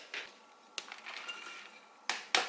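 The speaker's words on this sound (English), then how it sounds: "We're going to add everything into the crock pot now, starting with the meat" Cooked ground beef is spooned into a crock pot, giving soft squishy plops and a few sharp scrapes and clinks of utensil against the pot, quiet and close with no talk.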